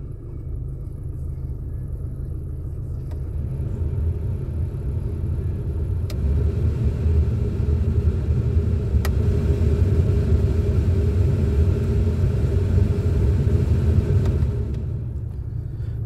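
A blower motor fan in a Chevy Colorado/GMC Canyon truck cabin runs as a steady airy rumble that grows slightly louder partway through, then eases off near the end.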